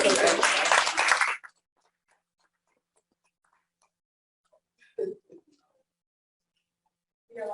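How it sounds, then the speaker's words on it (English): Audience applause from a talk event bursts loudly for about a second and a half, then stops abruptly, leaving near silence broken by faint sounds and brief talk. "go ahead and give him a round of applause"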